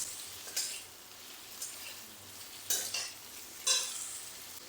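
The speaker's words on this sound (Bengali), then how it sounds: "আলুগুলো পেঁয়াজের সঙ্গে একটু ভেজে নিচ্ছি" Small potato pieces frying with onions in a pan, a steady soft sizzle with a few louder bursts of stirring scrapes at intervals, no talking.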